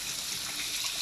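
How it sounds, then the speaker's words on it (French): Water from a tap runs steadily into a kitchen sink while dishes are washed by hand, a continuous soft trickling hiss at moderate distance with no talking. "j'aime bien faire la vaisselle à la main"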